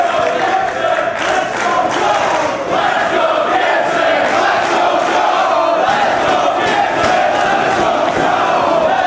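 At a Ring of Honor pro wrestling event, a loud arena crowd roars in a sustained wall of chanting and cheering, the rhythmic pulses of competing chants pushing through the constant noise.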